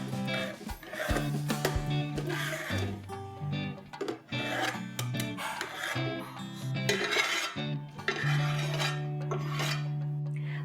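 Spatula scraping pav bhaji, a mashed vegetable curry, off a hot pan, with repeated close rasping scrapes and metal clinks in uneven strokes.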